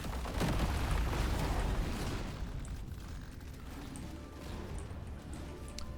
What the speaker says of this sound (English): those are some nice rockets. And then the explosions will hit him some here as well.